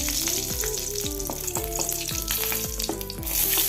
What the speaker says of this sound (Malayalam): ഒരു ടേബിൾ സ്പൂൺ വെളിച്ചെണ്ണ ഒഴിച്ച് കൊടുക്കുക ആദ്യം തന്നെ മുളക് ആദ്യം ഇട്ട് കൊടുക്കുക എണ്ണയിൽ